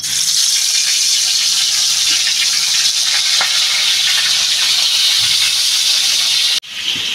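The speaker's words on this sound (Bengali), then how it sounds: "তেলটা আমার গরম হয়ে গেছে বন্ধুরা, আমি এবার মাছটা দিয়ে দেবো।" Tilapia fish sizzling in hot mustard oil: a loud, steady hiss of frying that holds evenly for several seconds, then cuts off abruptly near the end.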